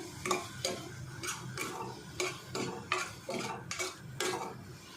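A spoon stirring bitter gourd vegetables with salt and turmeric in a pan, rhythmic scraping strokes about twice per second, close and steady over a faint frying sizzle.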